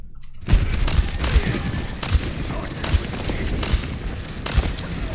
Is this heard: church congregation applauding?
no